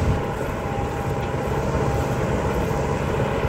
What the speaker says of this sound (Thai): อยู่กับรถไถของแดดงนะครับ